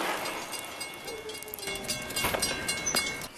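A train rolls past with a broad, continuous rumble and rising clatter, close and fairly loud, with a faint horn-like tone in the mix and no voices.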